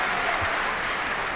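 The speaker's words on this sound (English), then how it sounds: "A ripple of applause." A steady ripple of applause from the crowd at a European darts tournament match, continuous and fairly even, with no talk over it.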